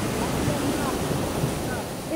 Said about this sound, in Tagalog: ang alon, Ala, malalaki ang alaw.